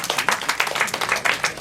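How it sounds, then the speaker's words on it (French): Dense audience applause at an urban music gala festival in Kolda, a steady wash of many hands clapping together, loud and close, with no talk over it. "Si on doit applaudir quelqu'un ici, c'est elle."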